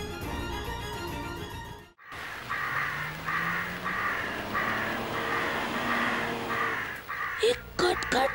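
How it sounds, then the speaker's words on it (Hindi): A flock of crows caws repeatedly in a steady run of harsh calls at moderate distance, with other voices and sounds breaking in near the end. "इतना सारा कौवा।"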